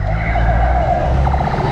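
A car drives past on a road, its engine and tire noise loud and close, sweeping through in under two seconds with a slight skidding whoosh, with no talk.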